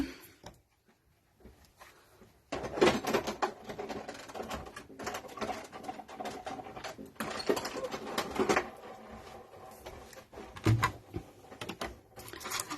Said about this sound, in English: So let me just cut this one out.